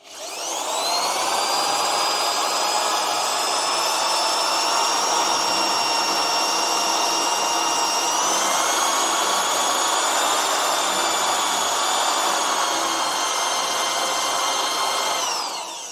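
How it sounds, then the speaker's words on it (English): A power drill bores into a clogged Volkswagen heat riser in a steady, continuous whine lasting the whole stretch, with a brief pitch shift midway as the load changes; loud and close, with no talking over it. "let's drill in."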